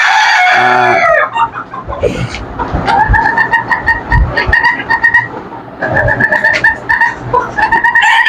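Chickens cluck and roosters crow loudly and close by on a small poultry farm, with repeated overlapping calls and short bursts throughout.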